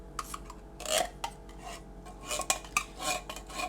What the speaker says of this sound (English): So you mix the soup, the broth, and the rice.